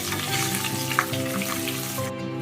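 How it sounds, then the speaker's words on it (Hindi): Curry leaves frying in hot oil for Haldiram-style navratan chivda crackle with a loud, dense sizzle and spitting pops close up, while a steady tonal hum runs underneath. "इसके बाद में हमने जो कड़ी पत्ता लिया था इसे हम डाल देंगे। इसे थोड़ा सा हम भून लेंगे।"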